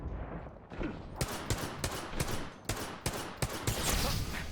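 Video game gunfire fills a shooter match, with a rapid run of sharp shots in an uneven rhythm that stays loud and close over steady background noise. No one speaks.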